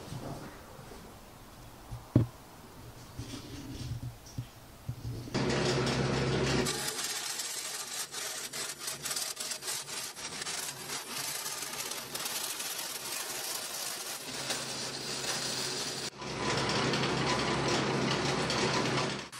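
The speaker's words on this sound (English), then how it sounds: "The JD squared air over hydraulic bender doesn't even break a sweat bending the 1 inch by 120 wall chromoly tubing." A JD Squared air-over-hydraulic tube bender bends 1-inch, 0.120-wall chromoly tubing, a steady loud mechanical grinding and whirring that starts after a few quiet clicks and runs unbroken for about ten seconds, then briefly dips and resumes.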